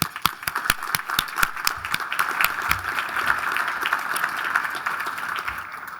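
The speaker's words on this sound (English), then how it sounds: "Let's give Kateri a round of applause" An audience at an energy-efficiency awards luncheon applauds, opening with a few sharp, separate claps that quickly swell into a steady, dense round of clapping lasting several seconds.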